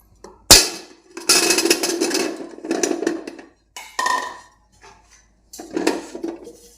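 A metal pot is set onto an idli cooker, a sharp clank followed by several bursts of clattering, scraping metal with short pauses between them.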